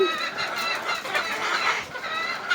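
A flock of chickens clucks continuously, many overlapping calls blending into a busy, fairly loud chatter.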